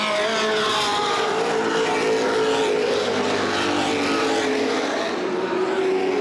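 Late model race cars run a Gold Cup 75 feature at Baer Field Speedway in 2011, giving a loud, continuous engine roar that rises and falls as the cars circle the track.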